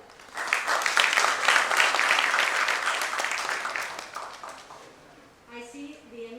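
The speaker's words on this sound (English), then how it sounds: "we need to give a big applause to all of them." Audience applause for nurses at a national nursing conference in Mumbai swells quickly into a loud, sustained round of clapping. It then thins and fades, and a voice starts speaking near the end.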